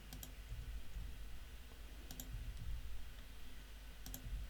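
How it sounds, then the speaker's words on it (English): Computer keyboard keys clicking while a template is aligned on a Remarkable 2 tablet: short clusters of quiet taps recur about every two seconds over a low background hum, with no talk. "I'm using my keyboard just to align it up"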